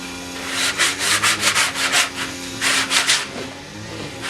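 Rhythmic back-and-forth rasping of sandpaper on wood for a wooden coat rack, about a dozen strokes close up, each a bright scratchy burst, no voices.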